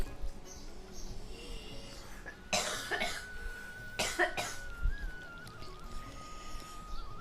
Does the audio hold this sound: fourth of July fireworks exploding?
no